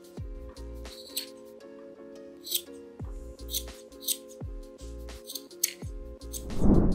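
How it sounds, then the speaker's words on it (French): Scissors snip through the fuzzy edge of a paint roller sleeve, with short crisp cuts at irregular intervals over steady background music and no voices. "il suffit de prendre votre rouleau, une paire de ciseaux, et vous allez ébarber."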